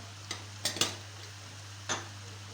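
Spices, salt and red pepper flakes being mixed into a bulgur and minced meat filling for börek, heard as a few soft, brief scrapes and stirs against a bowl over a steady low hum, fairly quiet with no talking.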